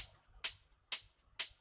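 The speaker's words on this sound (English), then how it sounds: "originally it's a hat loop, but sounding like this, it just didn't add too much for me, so I pitched down 12 semitones" Minimal house hi-hat loop pitched down twelve semitones, giving gritty, crunchy hits with low body; four evenly spaced sharp hits with short decays, dry and alone.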